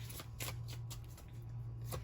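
A deck of tarot cards being shuffled gives a quick run of soft, riffling flutters over a low steady hum, close and fairly quiet.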